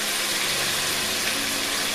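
Coconut cream pours in a steady, dense liquid rush, two measures of about 160 ml going into a dish of andouillette in mustard sauce, continuous and fairly loud with no voices.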